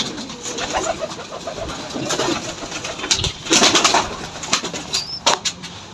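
Jalali pigeons and their chicks in an indoor loft: steady low cooing mixes with bursts of rustling, clicks and wing flutters, loud and close throughout.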